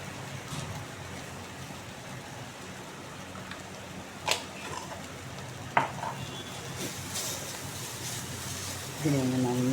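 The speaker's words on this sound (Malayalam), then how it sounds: "ഇതിനെ ഒന്ന് നന്നായി ഇങ്ങനെ സോട്ടാം കേട്ടോ" Gravy thickened with a spoonful of chickpea flour is stirred and sautéed in a pan, giving a steady low sizzle with scraping and a couple of sharp clinks from the spoon, under soft background noise.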